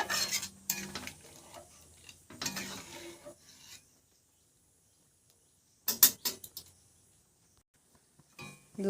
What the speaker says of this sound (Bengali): দুধটা ভালোভাবে ঘন ঘন ঘন ঘন নাড়তে হবে, নাহলে চালটা নিচে বসে যাবে।